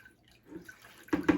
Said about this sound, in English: But here's how I water it.